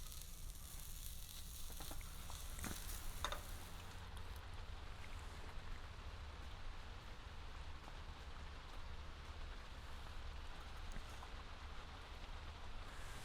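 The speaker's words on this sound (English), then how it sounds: "The hash browns are still cooking." Hash browns sizzle in a pan at an ice-fishing camp in Minnesota, a soft steady crackling hiss throughout with a few clinks early on, fairly faint and even.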